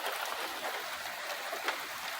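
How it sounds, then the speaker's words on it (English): Steady rain during a thunderstorm, a dense, even hiss of falling drops with no thunder claps evident, moderately loud and continuous. "It's just raining a bit and thunderstorms."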